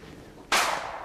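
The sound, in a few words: gunshot in a video game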